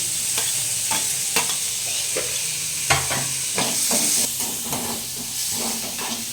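Onions and chopped tomato frying in oil on a home stove, a continuous close sizzle and hiss broken by repeated scraping and clinking as a spoon stirs the pan.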